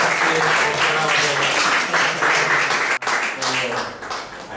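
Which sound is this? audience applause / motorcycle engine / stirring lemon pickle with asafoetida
audience applause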